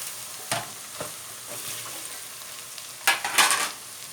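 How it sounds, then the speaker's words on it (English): Meat and onions fry in a saucepan, a soft continuous sizzle broken by sharp scrapes and stirring clatters from a utensil, close and moderately loud with a louder burst near the end. "the meat and onions are frying up nicely"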